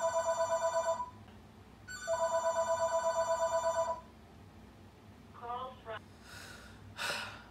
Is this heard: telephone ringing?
yes